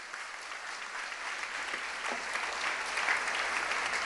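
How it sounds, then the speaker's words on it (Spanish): A congregation claps during a Spanish-language church service, the steady applause filling the room at an even level for several seconds with no voices rising above it. "Démosle palmas al Señor."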